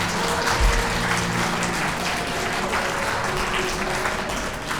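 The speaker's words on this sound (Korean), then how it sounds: "박수로 축하해 주시기 바랍니다" Guests applaud the bride and groom at a wedding ceremony in a convention hall, a steady, dense clapping that holds evenly from start to finish with no voices over it.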